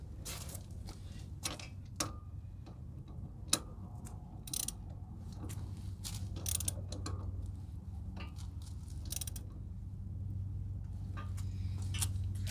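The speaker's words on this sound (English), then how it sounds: "So this one needs to be tightened up too" Ratchet wrench tightening a bolt on the rockshaft of a John Deere 3038e compact tractor, heard as scattered short clicking bursts over a steady low mechanical hum nearby, with no talking.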